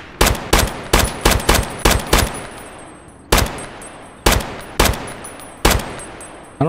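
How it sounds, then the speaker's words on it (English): Video game gunfire in Tarkov: sharp, loud single shots fired in short irregular bursts with gaps between groups, close and dry, each report decaying quickly, without any talk. "I don't know if I'm shooting him properly."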